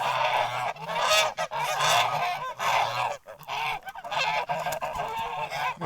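A flock of ganders (male geese) honking loudly and continuously nearby on a foggy pasture, overlapping calls with brief gaps.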